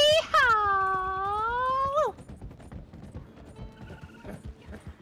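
Horse in an online video game, where a loud, close whinny with a falling cry opens and runs for about two seconds. It gives way to faint clopping hooves and game noise, and no voice talks over it.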